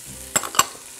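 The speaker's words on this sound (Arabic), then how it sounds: "لنفس الزيت اللي أنا حطاه، يمكن أحتاج أزود شوي بنشوف ساعتها. هنحط شوية ثوم وبصل" Garlic and onion hit hot oil in a pan, giving two quick bursts of stirring and sizzling in a brief, close moment with no talk.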